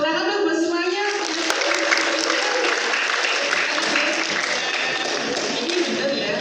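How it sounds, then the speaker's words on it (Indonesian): Applause from participants in a complementary medicine class session, continuous dense clapping at a steady level from start to end, with some taps and thumps mixed in. "Tepuk tangan dong buat semuanya."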